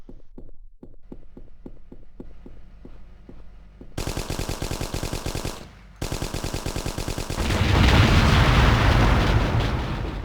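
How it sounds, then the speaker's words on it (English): Gunfire in Hidden & Dangerous Deluxe with the Ultimate Overhaul mod: rapid automatic bursts of loud, close shots, ending in sustained dense firing and a roaring blast. "Why can't this guy shoot a little bit more accurately?"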